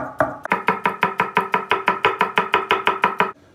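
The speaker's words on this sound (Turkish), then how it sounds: "Bunu da aynı şekilde ince doğrayacağız." A knife finely chopping red kapia pepper on a cutting board, a quick steady run of about fifteen evenly spaced, crisp, close knocks with no talking.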